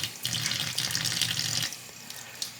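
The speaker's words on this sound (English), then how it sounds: "And then just rinse out as much of that blood as you can." Tap water gushes steadily into a sink, close and loud, while a butterflied pheasant is rinsed of blood, then the flow thins to lighter splashing and drips.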